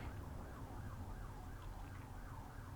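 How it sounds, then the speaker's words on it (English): A faint siren wails in the distance, its pitch rising and falling in a steady sweep over a low rumbling background. "there's a siren going off"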